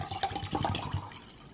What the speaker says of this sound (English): We're gonna fill it up, the beaker,